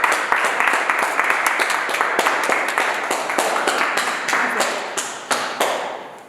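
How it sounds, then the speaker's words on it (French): Steady applause from an audience at a debate for Fribourg communal elections, many hands clapping densely and evenly for several seconds before thinning slightly toward the end. "nous la remercions et nous l'applaudissons"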